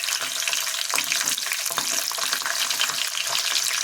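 Garlic cloves sizzling in hot oil while making pizza sauce, a loud close crackling fry with bursts of spattering and stirring, no talk.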